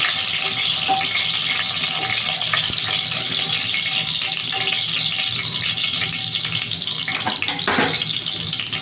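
Cumin seeds sizzle in hot oil in a pan for an aloo rajma curry, a loud, steady, crackling hiss that runs the whole time with little change.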